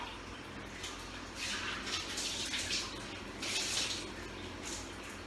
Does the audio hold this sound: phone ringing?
no